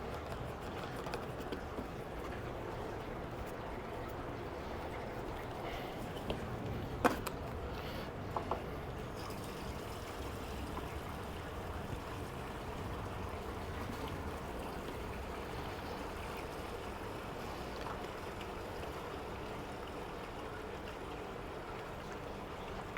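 Fuel pours from a vented can into a Stihl 400c chainsaw tank, a steady close liquid rush and gurgle that runs throughout with a few small clunks of the can.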